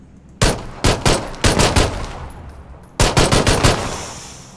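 Bursts of automatic gunfire aimed at vehicle tires in PUBG, two loud rapid volleys of several shots each separated by a short pause, close and sharp with no talking.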